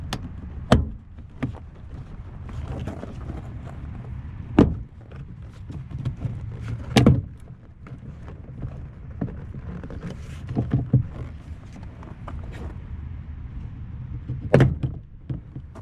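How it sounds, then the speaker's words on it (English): Sharp plastic snaps and pops ring out at irregular intervals, close up, as clips are pulled from a Mazda car door panel, between quieter rustling and handling noises. "just gently pull by unclipping just a little bit by little bit clips"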